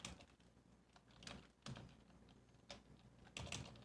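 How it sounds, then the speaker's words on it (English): Quick, irregular keystrokes tapped on a computer keyboard, close and fairly quiet, coming in short bursts with brief pauses between them and no voices. "I'm going to be typing up something here real quick."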